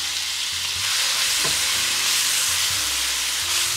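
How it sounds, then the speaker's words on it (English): A rice mixture frying in a pot, with a loud continuous sizzle and hiss and occasional scrapes of a spoon stirring, close and steady, with no one speaking. "And then let's stir this up."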